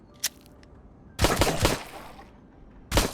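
Gunfire in a survival horror video game: a faint early shot, then a loud burst of several rapid shots, and another loud shot near the end, with quiet gaps between.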